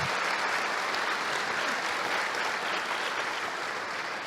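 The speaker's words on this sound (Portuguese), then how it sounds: "Vamos encerrar com uma salva de palmas de louvor ao Senhor" Applause at the close of a church mothers' meeting: a steady, moderately distant wash of many hands clapping, even and unbroken throughout with no voices over it.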